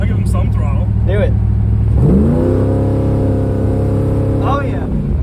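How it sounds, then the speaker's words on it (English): An LQ4 V8 engine swapped into a Pontiac Firebird Trans Am revs loudly and nearby, climbing into a sustained high throttle run before dropping back, while people talk and shout around it. "I'll give them some throttle."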